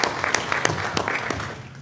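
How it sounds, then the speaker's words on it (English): Applause at a board of education meeting, scattered individual claps ringing out in a brief, thin round of clapping. "can we give them a round of applause as well?"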